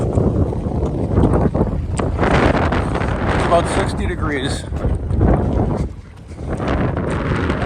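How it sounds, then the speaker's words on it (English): Strong wind gusts buffet the microphone on a walk along Hampton Beach, New Hampshire, a loud, steady roar with broadband rumble that briefly dips, while people talk over it throughout. "Oh man, that wind."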